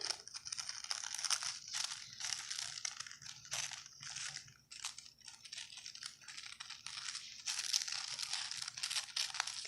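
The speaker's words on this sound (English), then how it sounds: "I'm going to go ahead and cut this out." A paper sewing pattern being cut out with scissors, giving close, steady crisp crinkling and rapid snipping rustles that run continuously with brief dips.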